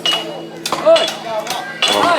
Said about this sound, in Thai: ตอนนี้เขากำลังตอกตอกอยู่นะผม